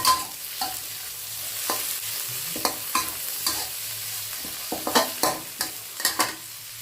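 Thai roasted chili paste is stir-fried for tom yum fried rice, a soft sizzle broken by a dozen or so sharp spatula scrapes and clacks against the pan, irregular and close, with no talking.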